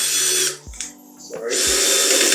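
A power drill drives screws into a hanging TV console, whirring loudly for about half a second, pausing, then spinning up again and running steadily to the end.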